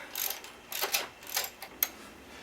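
Several short bursts of ratcheting clicks come from an 8 mm Allen key and a 17 mm socket working loose a bottom mount bolt on a BMW F650GS motorcycle, close and fairly quiet, with brief pauses between strokes.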